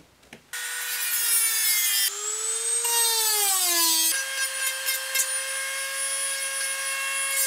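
A loud, steady whine of a Dremel with a sanding drum cleaning up the edges of a cast resin mask, shifting pitch as it grinds and sands, running continuously close up without any speech.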